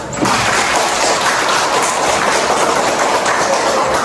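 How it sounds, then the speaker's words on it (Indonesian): A classroom of pupils applauds during a micro-teaching lesson, a steady dense wash of clapping that starts abruptly and holds at even loudness throughout, close and continuous with no talk over it. "silakan berikan tepuk tangan"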